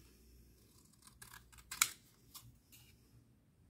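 Scissors cut orange paper into a snowman's nose: several soft, close snips and rustles, one sharper click in the middle, all faint with no talking.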